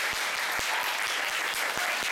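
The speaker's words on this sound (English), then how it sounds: "her a big applause." An audience at a club demo meeting applauds steadily, a dense wash of clapping with a few distinct nearby claps standing out.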